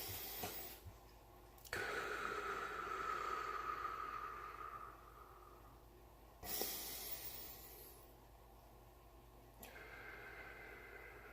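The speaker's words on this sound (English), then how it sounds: "At the very least, you should take 3 deep breaths." Slow, deep breaths during a meditation-style energy ritual, drawn in and let out as long airy hisses of a few seconds each, close to the microphone, with no talking.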